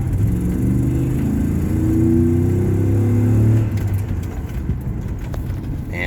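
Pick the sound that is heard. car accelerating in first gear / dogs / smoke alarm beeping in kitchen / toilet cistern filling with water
car accelerating in first gear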